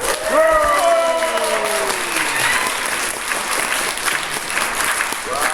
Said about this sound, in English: And a big applause for the team.